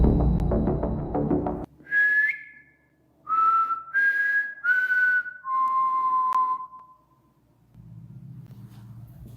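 A person whistles a short melodic phrase of several clear held notes, each stepping lower than the last. A low engine-like rumble plays before and after the notes, and no one speaks over the whistling.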